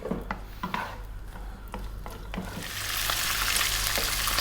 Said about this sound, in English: We're going to start off by dropping in our beans, and we're just going to fry them.